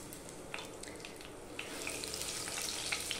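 Broken bay leaf pieces fry with tempering spices in hot oil for ghugni, making a faint, steady sizzle dotted with tiny crackles.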